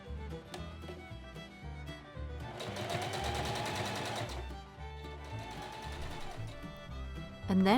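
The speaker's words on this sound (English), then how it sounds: "I sewed it down from the top, mimicking that top stitching I did" A sewing machine stitches down the lining of a pinafore waistband, its fast mechanical rattle running in bursts of varying length with brief pauses between them, close and steady with no talk.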